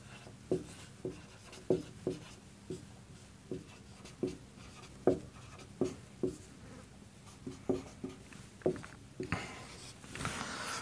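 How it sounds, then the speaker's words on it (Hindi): A teacher writes a definition of electric charge on a classroom board, a quiet series of short scratchy strokes and taps arriving in an irregular rhythm at close range, with no talking. "तो मैं यहां डेफिनेशन लिख देता हूं विद्युत आवेश की।"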